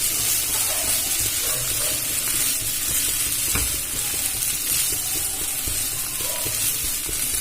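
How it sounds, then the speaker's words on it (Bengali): Chopped coriander leaves fry in a pan with a bread-snack filling, giving a loud, dense, continuous sizzle and hiss. A single knock of the spoon lands near the middle. Nobody speaks. "আবারও ভালো করে ভেজে নেব ধনেপাতাটা দিয়ে।"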